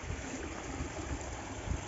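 A stream flows near a river's source, with a steady, close rush of running water and no voices.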